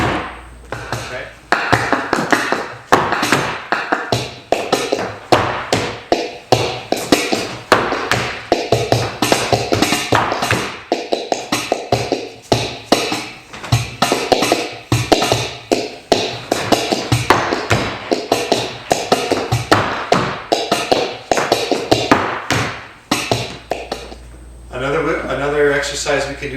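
Rapid flamenco footwork taps from a Fandangos de Huelva dance exercise, dense percussive heel and toe strikes running almost continuously in a quick rhythm, loud and close, with brief pauses near the end.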